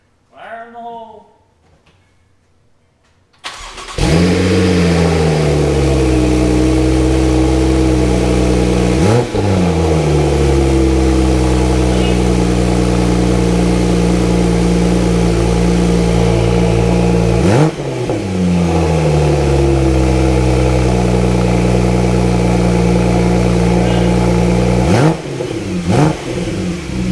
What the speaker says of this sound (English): both intercoolers are in, everything's connected, so we could finally fire her up and hear the exhaust for the first time